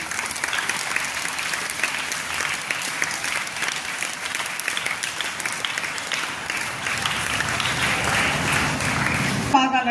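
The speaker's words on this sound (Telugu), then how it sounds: "చప్పట్లు కొట్టండి అమ్మాయి" Schoolgirls performing a yoga asana at a National Games Day celebration in a school draw sustained applause from the crowd, steady clapping that carries on under a voice speaking over it.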